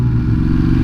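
A brief, loud, steady 2022 Ducati Hypermotard SP engine idling close up, with a low rumbling pulse and no talk.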